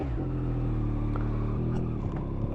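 A 2023 Yamaha XSR 900 motorcycle pulls away at low speed, its engine a steady, close rumble with a slight rise in revs as it gets moving.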